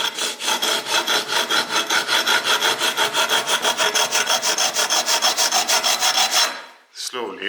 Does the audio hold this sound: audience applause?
no